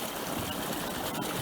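Steady rushing water flows across a road after heavy rain, a constant close wash of gurgling and trickling with no voices.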